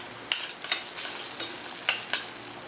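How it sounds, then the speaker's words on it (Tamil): Eggs being stirred and sautéed in a frying pan for egg rice: a steady soft sizzle with several sharp spatula scrapes and taps against the pan, close and fairly loud, with no voices. "முட்டை போட்டு நல்லா வதக்கிக்கலாம்."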